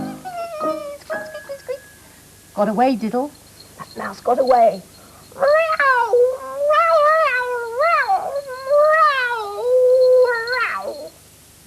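A cat meows and caterwauls in long, wavering, rising and falling cries across most of the stretch, loud and close, after a short spoken line at the start.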